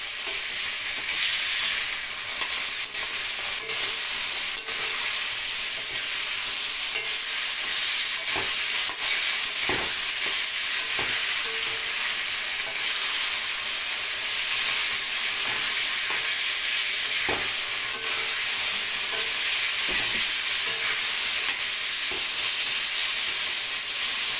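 Chilli for tomato chutney sautéing in a pan, a continuous close sizzle with occasional soft scrapes and knocks from stirring, no voices.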